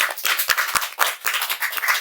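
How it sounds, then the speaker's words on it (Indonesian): Studio audience clapping on a talk show, a brisk run of sharp claps at an even, quick rhythm, close and fairly loud, lasting a couple of seconds. "Tepuk tangan dong"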